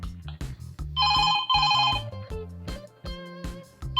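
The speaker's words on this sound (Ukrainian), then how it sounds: "одразу приходить відеовиклик на наш смартфон" A smartphone rings loud and close with an incoming video call from a Slinex Sonik 7 intercom. A bright tone repeats in short bursts over a rhythmic, bass-heavy ringtone melody, and no one speaks.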